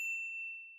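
A single clear notification bell ding, bright and ringing, fading away over under a second with nothing else around it.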